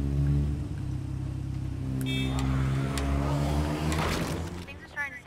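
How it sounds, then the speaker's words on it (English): A car engine drones steadily and then revs in the zombie survival game State of Decay: Breakdown, with a low rumble throughout and brief metallic clatter near the end, while a voice talks over it. "We're going to take out a horde using this car."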